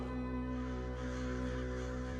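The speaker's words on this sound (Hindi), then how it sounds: "ये जो कौवे हमारे ऊपर मंडराते रहे हैं" Crows caw while circling overhead, the calls faint and blended into a steady low hum of background ambience, with no speech.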